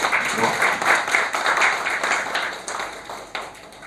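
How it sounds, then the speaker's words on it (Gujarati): At a business seminar on HR culture, an audience applauds to welcome three speakers: a dense, steady wash of many hands clapping across the hall, continuous and fairly loud throughout. "આ ત્રણ સ્પીકરોને આપણે તાળીઓથી વધાવી લીધા."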